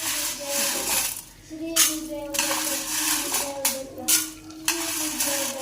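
Corn kernels are tipped into a hot pan and stirred, giving a bright, hissing sizzle broken by several short scraping bursts as the spatula moves. A faint tonal hum sits underneath.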